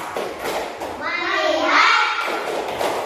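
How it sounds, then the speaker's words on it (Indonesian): Primary-school pupils in a classroom chant a short focus clapping routine together, their voices dominating with a few soft claps at the start and end. "Tepuk fokus."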